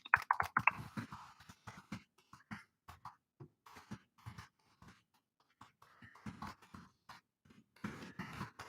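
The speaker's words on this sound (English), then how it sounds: "So I'm going to type that out." Irregular bursts of clicky taps from a computer keyboard, close and fairly quiet, in uneven clusters with short pauses between them.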